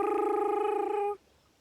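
A voice imitates tires squealing as a car takes a corner too fast, giving one steady sustained tonal squeal that cuts off abruptly.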